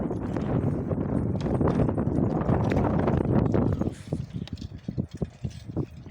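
Hooves clip-clop steadily at a walking pace, close by, with a brief lull in the background noise near the end.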